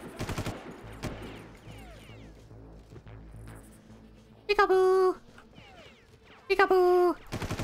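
Bursts of enemy gunfire in the Far Cry video game, two loud rapid volleys near the end, with a player talking over the game sounds throughout.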